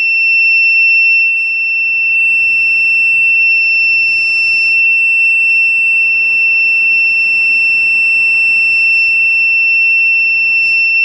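A loud, piercing electronic alarm tone from an Internet of Things device sounds continuously and unbroken, close and steady with no voices.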